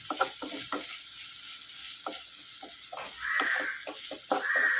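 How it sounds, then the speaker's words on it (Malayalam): Spices and green chillies stirred in a hot pan for a Kerala drumstick stir-fry, with steady sizzling and repeated scraping strokes of a spoon at close range. A faint crow calls in the background. "നന്നായിട്ടൊന്ന് ഇളക്കി ഇതിൻ്റെ പച്ചമുളകൊക്കെ പോകണം നന്നായിട്ട് ഇളക്കി യോജിപ്പിക്കുക"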